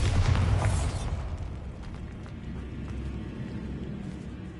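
A Bombarda blasting spell in Hogwarts Legacy goes off inside a decayed catacomb. A loud, deep boom opens the moment, then fades into a lingering low rumble and scattered debris-like crackle.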